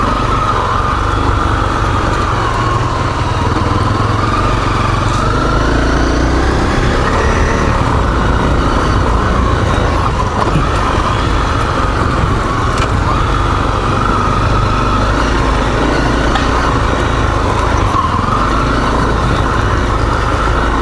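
ATVs on the South Pedlar trails pass close and loud, with a steady, rough engine roar that fills the whole stretch without letup.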